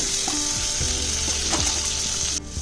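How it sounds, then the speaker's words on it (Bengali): Pieces of dried shutki fish, chandana dry fish, fry in a pan with a steady, loud hiss of oil, broken by a few soft knocks and scrapes, before the sizzle drops away abruptly near the end. "এবার শুটকিগুলোকে সুন্দর করে ভেজে নেব।"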